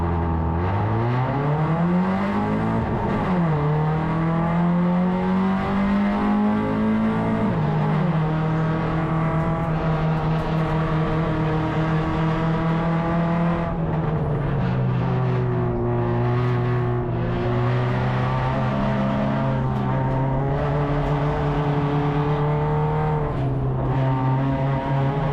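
Hyundai Excel race cars circulate at Baskerville during an enduro race, engines droning loudly as they rev up through the gears and hold high revs, with shifts and passing cars blending into a continuous roar.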